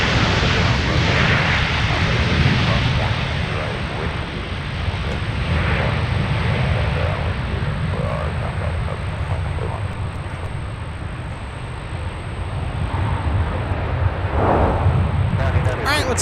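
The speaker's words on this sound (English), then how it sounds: "Let's take a second look at Southwest coming in with the MAX 8." A Southwest Boeing 737 MAX 8 arrives at Minneapolis–Saint Paul airport, a broad, steady jet rumble and roar holding at moderate loudness throughout, with a soft voice occasionally present underneath.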